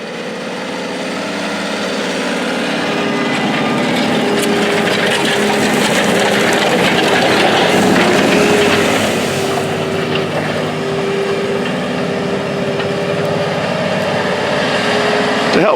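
Continuous drone of a John Deere tractor engine pulling a 23-foot Great Plains TC5300 turbo chisel plow in a field, steady and fairly loud, with a slight swell in the middle and faint voices underneath.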